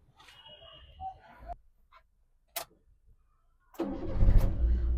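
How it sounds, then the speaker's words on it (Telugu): A 2022 Eco five-seater petrol/LPG car self-starts: a short starter crank cuts off, a couple of clicks follow, then the engine catches and settles into a steady, close idle. "ఒకటే సెల్ఫ్ స్టార్ట్ అయిపోయింది, ఎలాంటి స్టార్టింగ్ ట్రబుల్ అయితే లేదు."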